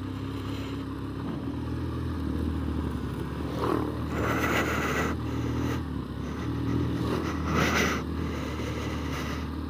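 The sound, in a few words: KTM motorcycles passing by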